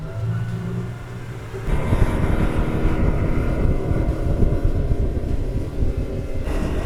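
A 2024 Sunchaser Geneva Cruise 24 SB DH pontoon boat engine roars up to a steady loud drone at about 5,300 RPM, cruising around 40 on the water, with wind rushing across the microphone, running continuously without any voices.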